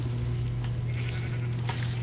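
A sheep bleats in the Minecraft modpack Hexxit, a brief wavering bleat over a steady low game hum, moderately loud and with no talking.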